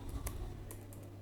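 Typing code on a computer keyboard: a short run of soft, quiet key clicks and taps in irregular rhythm over a low hum, with no talk.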